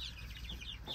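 Chickens clucking softly on a livestock farm, a brief faint run of quick clucks and chirpy calls over low background rumble.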